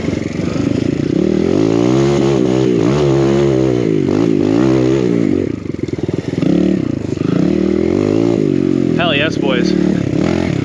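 A two-stroke enduro dirt bike engine revs hard off-road, rising and falling in loud buzzing bursts with clatter as it works over logs, close and continuous under excited talk.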